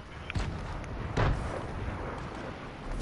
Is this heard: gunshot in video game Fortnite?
yes